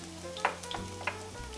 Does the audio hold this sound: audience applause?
no